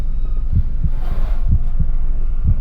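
A car's power steering, low on fluid, strains with a loud, steady groaning drone, broken by heavy low thumps about once every second.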